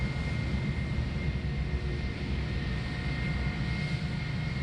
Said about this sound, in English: Qantas 12 just coming through the clouds there at the moment